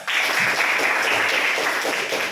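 A classroom of students claps together for a pupil's answer, producing a dense, loud burst of applause that lasts a couple of seconds.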